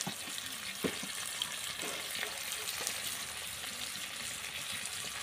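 Pieces of rohu fish fry in oil in a pan over a wood fire, a steady bright hiss with occasional soft pops and crackles, heard up close with no talking.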